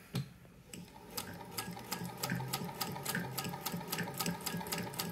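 A Singer 201K sewing machine stitches at a steady pace, with a regular rapid ticking of the needle over a low motor hum, close and uninterrupted.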